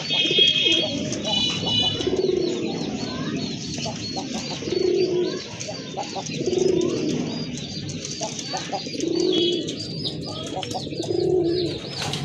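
Pigeons give deep repeated coos every couple of seconds in a steady rhythm, nearby and fairly loud, over a constant backdrop of high chirping from smaller birds.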